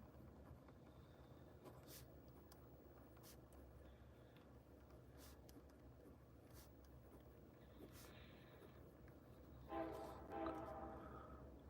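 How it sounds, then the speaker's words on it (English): A passenger train slowing to a stop sounds its horn in the distance near the end, over a faint, steady background rumble with scattered soft clicks. "There goes the train."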